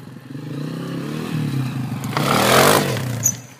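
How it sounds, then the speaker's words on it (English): A Honda CRF 230F dirt bike slides through mud, its engine burbling close by and then swelling into a louder rev with a burst of splattering, scraping noise near the end. "drifting in the mud on my CRF 230F"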